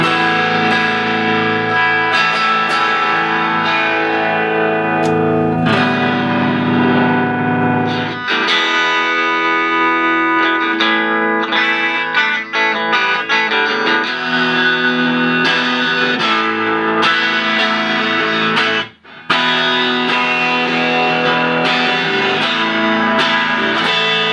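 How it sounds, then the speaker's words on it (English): Heavily distorted electric guitar through a scratch-built Univox Super Fuzz clone, with a thick fuzz tone, playing sustained chords and riffs loudly and continuously, with one brief cut near the end. "It's just a Univox Super Fuzz that I built from scratch"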